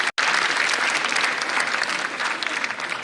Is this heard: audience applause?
yes